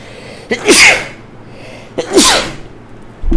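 Two sharp sneezes from a player at a tabletop role-playing session, each a quick intake followed by a loud burst, spaced about a second and a half apart, close and alone.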